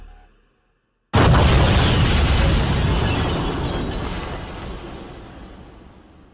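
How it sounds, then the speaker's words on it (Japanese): A drama CD explosion effect: a sudden loud boom with a crashing, shattering burst bursts in after a short silence, then a long rumbling decay that slowly fades over several seconds. "どうやら爆発も収まったみたいね"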